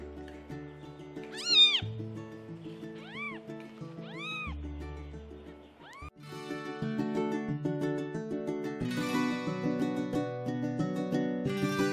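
Very young kittens, eyes not yet open, mew in short high rising-and-falling cries, several in turn, near and clear over a background of soft music.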